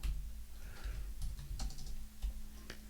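Rapid typing on a computer keyboard, with irregular clicks and key thumps at close range over a low steady hum, no voices.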